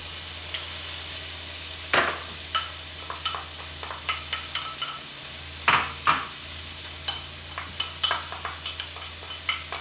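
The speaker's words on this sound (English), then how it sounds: "to the same skillet, we are going to add our peppers and our onions" Peppers and onions sauté in a skillet with a steady sizzle, broken by repeated scraping and clinking of a utensil stirring against the pan, close and with no speech.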